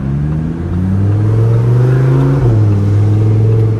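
A 2021 Lamborghini Huracan Evo coupe engine revs hard and loud, a sustained deep howl that holds steady, dips briefly and climbs again, with no voices over it.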